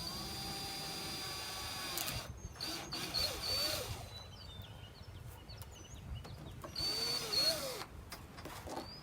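Power drill boring slowly through plexiglass backed by a spare piece of wood: a faint, steady whirring drone with a rising whine around the middle, heard at a distance in a quiet room, with small birds chirping outdoors.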